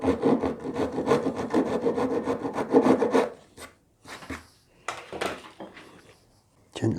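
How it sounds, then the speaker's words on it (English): A small Japanese pull saw cuts into a wooden guitar fretboard, a steady rasping run of strokes for about three seconds, then a few short scraping bursts separated by pauses, close and fairly loud. "I put another saw cut in. Taking care not to touch the rest of the fretboard."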